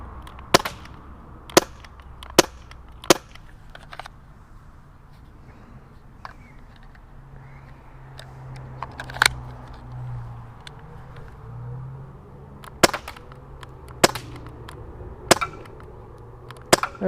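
A cheap non-blowback airsoft gun fires a series of sharp, dry snapping shots at irregular intervals, some close together and others spaced seconds apart, over a faint low background hum.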